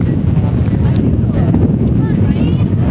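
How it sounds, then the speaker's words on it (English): Strong wind buffets the outdoor microphones at a city park baseball game, a steady low rumble filling the whole stretch with faint crowd sounds beneath. "as you can hear on our microphones, pretty windy day at Dover City Park"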